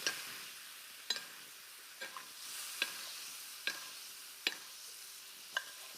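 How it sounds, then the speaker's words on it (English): Hake fillet frying in foaming butter in a pan: a steady soft sizzle with sharp clicks and taps spaced about every second, close by and with no talking. "Get that fish in that lovely foaming butter."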